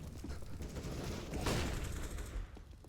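Rapid gunfire in the CS:GO video game during a competitive match, a continuous rattling burst of shots with a louder swell midway, dense and close.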